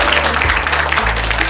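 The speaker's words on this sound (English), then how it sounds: "Let's give them a big round of applause." A crowd at a graduation ceremony claps loudly and densely in a short continuous burst of applause.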